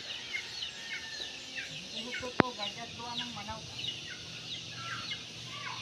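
Chickens cluck and call repeatedly in a rural provincial yard, moderately distant, with one sharp click partway through over steady outdoor background.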